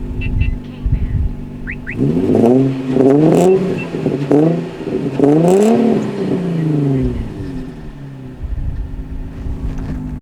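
A warmed-up Nissan 350Z engine with single exhaust revs up several times in quick succession, rising and falling sharply, loud and close, then settles back to idle.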